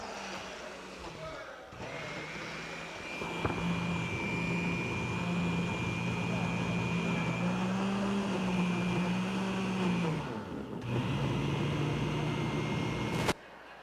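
A blender labours through a thick lunch mixture, its motor a loud, steady drone whose pitch wavers as it strains, running for about thirteen seconds before cutting off abruptly.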